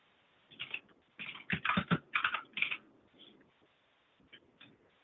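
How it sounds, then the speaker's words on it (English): Computer keyboard keys clatter as a line of code is typed into a Jupyter notebook, quick bursts of close, crisp clicks with short pauses between them, and no talking. "So now I'm going to be typing in"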